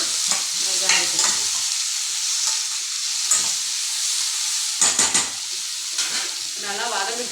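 Sliced onions and okra fry in a little oil in a pan, giving a bright, steady sizzle close by, broken by occasional clattering stirs.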